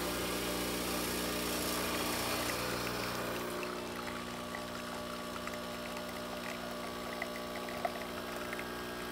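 An ECM Giotto espresso machine running, heard as a steady loud mechanical pump drone with hum and hiss that shifts partway through to a quieter, lower running tone, close by and alone.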